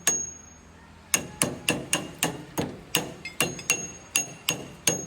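A gear on a Grimme potato planter is driven on with about a dozen sharp, ringing metallic hammer blows in a steady rhythm after a short quiet start, loud and close.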